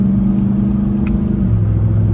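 A 2024 Ram TRX Final Edition pickup with a supercharged Hellcat V8 drones loudly from inside the cab, its steady engine note dropping in pitch partway through as the transmission upshifts.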